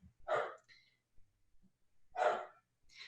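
Dogs bark twice in a quiet setting, two short separate bursts with silence and a few soft small noises in between.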